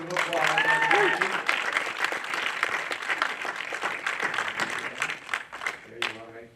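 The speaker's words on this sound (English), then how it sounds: "Let's have a round of applause" Applause from an audience at a film festival finalist showcase, a dense, steady wash of clapping that runs most of the way through before thinning out, with voices talking over it near the end.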